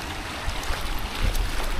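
Floodwater pours over a village bridge in Konkan as a steady, broadband rushing wash that swells slightly, heard near and continuous with no voices.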